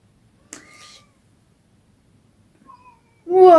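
A kitten mews once, short and fairly faint, then another soft high cry follows after a pause, and a voice starts speaking at the very end.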